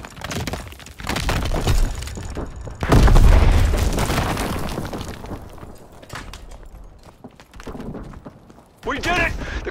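A video-game explosion destroys an ammo supply in a Call of Duty multiplayer mission, bursting loud and booming with crackling debris that slowly fades, mixed with shouted voices and other battle noise.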